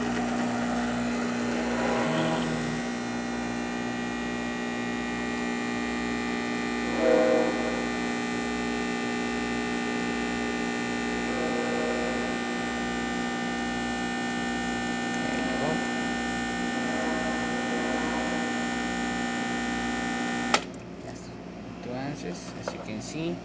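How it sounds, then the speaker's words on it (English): A Gaggia espresso machine pulls a single shot, giving a steady low pump hum and drone with faint background talk, ending in a sudden click and a short rattle near the end. "starting with one shot of espresso, we're gonna test this machine out"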